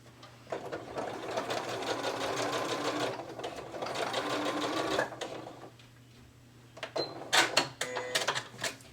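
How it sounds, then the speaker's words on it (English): A sewing machine stitches across the end of a fabric CD pouch in a long steady whirring burst, falls quiet, then returns in shorter rapid bursts close by. "We're going to sew that end right there."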